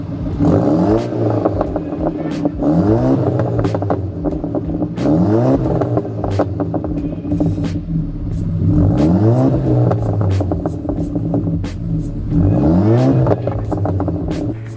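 A 2013 Audi A5 four-cylinder engine revs repeatedly in rising surges, with a deep, throaty exhaust note and some mechanical clatter, fairly close and loud.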